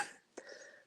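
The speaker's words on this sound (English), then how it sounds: "I got the coughs." A single brief cough or throat clear from a man, close and fairly faint, with a short raspy burst in the middle of a quiet moment.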